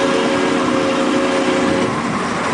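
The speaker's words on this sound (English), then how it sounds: "It's a quarter scale engine, and they have it converted to run on diesel fuel." A quarter-scale 1940s steam locomotive converted to run on diesel pulls a small park ride train, its loud, steady engine drone and rumble close by, with sustained tonal hum and rattling throughout.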